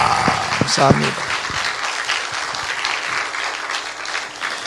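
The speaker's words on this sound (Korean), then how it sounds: "박수 한번 해요" A church congregation at a Korean revival festival service breaks into applause, steady crowd clapping at moderate loudness while a voice speaks over it near the start.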